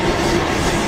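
An electric HST train hauled by a class 90 locomotive runs through Ipswich Tunnel, giving a brief, steady, enclosed rumble of wheels on rails with no voices.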